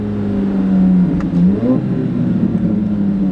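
C8 Corvette Z06 with a Tremec 8-speed transmission rev-matches on a quick downshift, the steady engine drone briefly surging into a sharp rev blip before settling back, loud and close with no talk.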